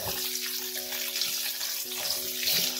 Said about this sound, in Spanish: en esto mismo así, tal cual, vamos a poner la cebolla.